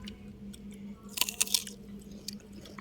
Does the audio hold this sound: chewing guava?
yes